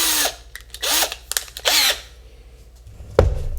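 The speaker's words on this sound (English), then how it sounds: "Drill a hole like I showed you." A power drill bores a hole in a cutting board, several short whining bursts that rise in pitch as the motor spins up, with pauses between them, close and loud, followed by a clunk as the tool is set down.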